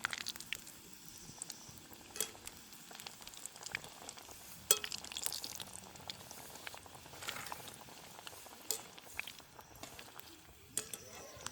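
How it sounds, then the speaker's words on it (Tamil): Chicken rolls deep frying in hot oil give a faint, steady bubbling sizzle with scattered crackles and pops throughout. "நான் இதை போட்டு பொரிக்க போகிறேன்."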